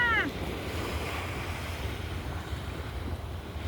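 Ocean surf washes in with a broad, steady roar mixed with wind buffeting the microphone; a brief chirp sounds at the very start.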